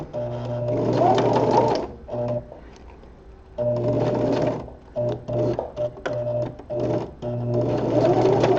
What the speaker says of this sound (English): this is pretty complex sewing